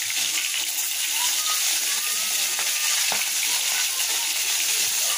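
Flipped rohu fish pieces sizzle steadily in a frying pan, a constant close hiss with a few faint crackles and small clicks, no one talking.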